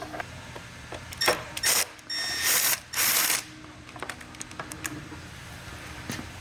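Ratchet clicking in short bursts while a hose clamp on the silicone intercooler couplers of a BoonDocker intercooler kit on a Polaris Patriot Boost snowmobile engine is loosened, close and moderately loud, with quiet gaps between the bursts of turns.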